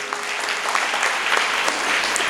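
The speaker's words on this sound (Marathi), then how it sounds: "या ठिकाणी संजय महाराज गव्हाणी यांच्याकरता सुद्धा जोरात एकदा टाळी वाजवा" Audience applause at a devotional Dnyaneshwari parayan gathering, a steady crowd clapping that stays loud and dense throughout without a break.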